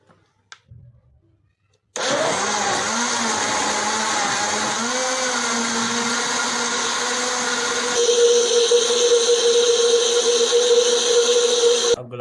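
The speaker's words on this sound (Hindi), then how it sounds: "अब इसको ग्राइंड कर लेंगे।" Blender grinding cucumber, apple, ginger, coriander leaves and a little water into a drink, a loud steady motor whine that starts after a couple of soft clicks and shifts slightly in pitch partway through.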